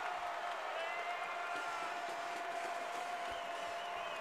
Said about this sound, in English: Listen to the crowd here inside of the Holmes Convocation Center.